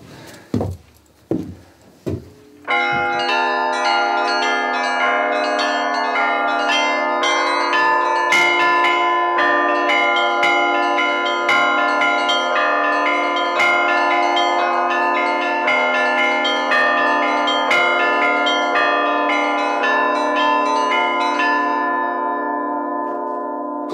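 Bells in the Suzdal bell tower ring out, a few separate strikes first, then a loud, dense, sustained peal of many overlapping bells that rings steadily for about twenty seconds before fading at the end.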